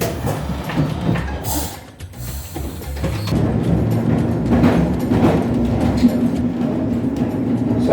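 A heavy rail vehicle rumbles and grinds along its track, with clattering and squealing metallic noise, loud and continuous throughout.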